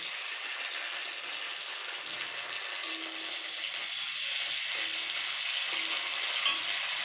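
Ginger garlic paste fries with browned onions in a pan, giving a steady, close hiss of sizzling oil that runs throughout with no voices.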